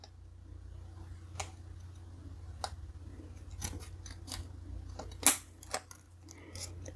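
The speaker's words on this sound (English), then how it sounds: "I'm just using a pair of scissors." Scissors snip through a vacuum-formed plastic windshield for a diecast model, giving a series of crisp, close cutting clicks at irregular intervals over a low background hum, with no talking.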